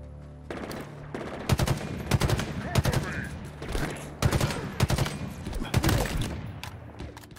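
Rapid bursts of gunfire from a weapon in Halo Infinite, loud sharp volleys repeating through the stretch with short gaps, a voice talking faintly underneath.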